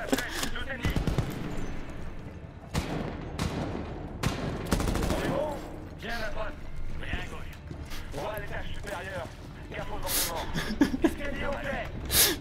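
Gunfire from a modern military shooter, Medal of Honor (2010): dense bursts of automatic fire and scattered shots crackle throughout, mixed with game effects and a voice talking over the action.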